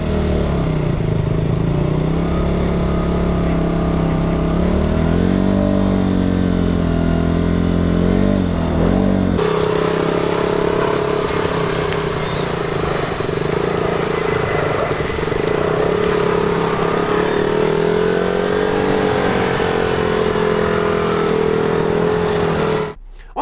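A motorcycle idles and putters steadily through a slow U-turn under clutch control, its engine note dipping briefly before settling into a continuous low drone, close and fairly loud throughout with no talk.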